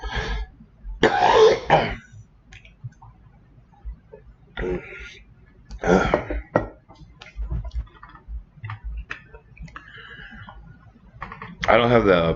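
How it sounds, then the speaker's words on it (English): Someone coughs and clears their throat in several harsh, close bursts, with quiet ticking and small sounds between them. "Hold on one second. I got to cough real quick."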